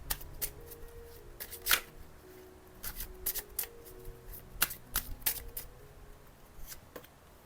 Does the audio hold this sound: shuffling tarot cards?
yes